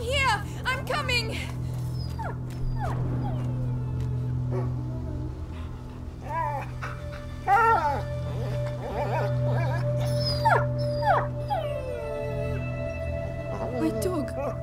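In the video game A Plague Tale: Innocence, a dog whimpers and yelps in repeated short, high cries over a steady low hum, near and fairly loud, with voices speaking between the cries.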